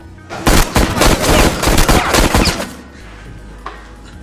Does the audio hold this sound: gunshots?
yes